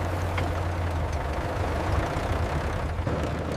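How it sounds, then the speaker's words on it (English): A truck engine rumbles steadily and close in open desert, a dense, unbroken low drone with rough texture throughout. "The engine thumps, the truck frame rattles, and sand crunches."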